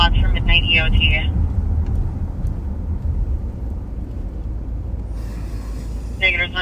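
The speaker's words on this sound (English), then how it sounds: "I hear a car coming." A car approaches a sheriff's patrol at night with a low, steady engine and road rumble that persists throughout, while brief voices and radio chatter come in at the start and end.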